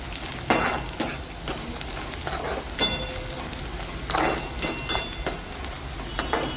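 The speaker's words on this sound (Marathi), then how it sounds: "आता त्याला थोडासा चांगला वास येईपर्यंत परतून घ्यायचं" Whole spices, mace, a cinnamon piece and whole coriander seeds, sauté in hot oil in a pan, giving a steady close sizzle broken by repeated scraping stirs.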